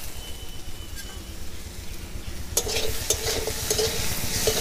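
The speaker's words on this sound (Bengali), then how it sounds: "রসুন দেওয়ার পরে ভালো করে ভেজে নেব, নাহলে কাঁচা রসুনের গন্ধ করবে।" Garlic and potatoes fry in a pan with a steady sizzle, then stirring grows louder partway through, adding scraping and crackling close up.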